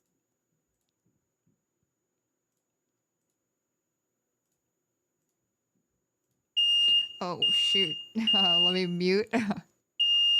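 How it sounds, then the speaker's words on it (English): After a long silence, a fire alarm suddenly starts a loud, piercing electronic tone that repeats in bursts, while a person talks over it. "got the fire alarm going off"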